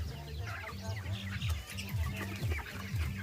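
A crowd of broiler chickens clucking and cheeping together in a shed with husk litter, a dense continuous murmur of many birds at moderate volume.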